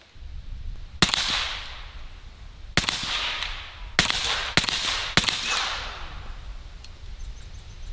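Five sharp shots from a Western Rattler .357 bullpup rifle at a target range, spaced unevenly with a short ringing tail after each, loud and close with no talking.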